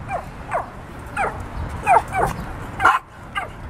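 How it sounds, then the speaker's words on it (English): Puppies yip, bark and whimper in short high-pitched bursts, several close cries spaced unevenly, heard outdoors at a park in Chicago. "Those are pretty, pretty puppies."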